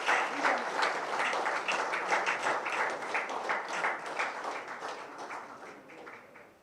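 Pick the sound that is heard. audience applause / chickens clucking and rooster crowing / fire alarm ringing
audience applause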